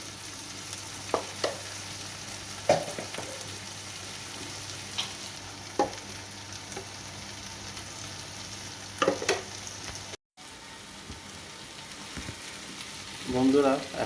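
Boiled potatoes fry with turmeric and chili powder in a pan, a steady close sizzle with repeated spatula scrapes and knocks, one brief dropout near the end and a louder stirring burst after it.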